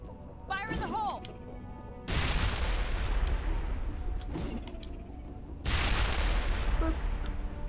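Grenade blasts from Mass Effect combat rumble loud and broad, two sustained booming bursts with a lingering roar, following a short voiced line.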